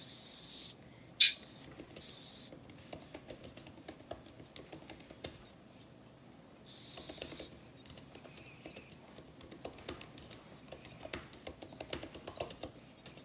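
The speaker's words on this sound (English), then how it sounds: "I'm typing" Someone typing on a computer keyboard, with irregular bursts of soft key clicks, one sharper clack near the start, and faint birdsong in the background.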